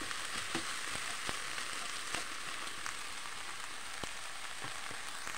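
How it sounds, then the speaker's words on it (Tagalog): Onion frying in a pan for a stir-fried bitter melon dish, giving a steady, even sizzle with scattered small pops and crackles throughout, close and fairly quiet with no talking. "lutuin na natin ng konti yung onion."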